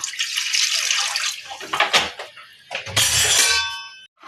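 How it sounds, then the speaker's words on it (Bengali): Water poured into a karai, a cooking pan, in a home kitchen, splashing in two loud bursts with a brief pause between them. "কড়াইটা বসিয়ে দিচ্ছি দিয়ে এতে কিন্তু একটু জল দিয়ে দেবো"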